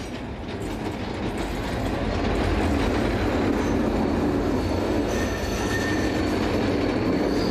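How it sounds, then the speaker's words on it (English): A Swiss train on the Gstaad route climbing above the town toward Montreux rolls steadily past, with a continuous rumble, wheel clatter and a thin squeal that swells after the first seconds and stays loud. "Trains on the Gstaad route can be seen climbing high over the town before turning west and on to Montreux."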